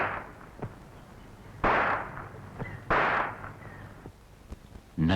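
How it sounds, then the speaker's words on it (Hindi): Gunshots fired in a dramatised depiction of an assassination, two loud sharp cracks well apart with a third burst at the end, standing out alone over a faint background with no talking. "गोडसे ने अजातशत्रु गांधी जी के कोमल शरीर में आग बरसाती गोलियां दागी।"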